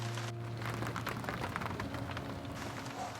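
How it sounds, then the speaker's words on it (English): Rain falls steadily outside a bird photography hide, a continuous soft wash of drops close by, with no voices and a faint low hum underneath. "we'll just wait this little rainy period out"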